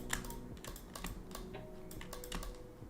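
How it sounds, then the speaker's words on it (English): Rapid typing on a computer keyboard with an apparent fault, a steady run of clicky keystrokes close up with no talking. "let's see if my keyboard is fixed"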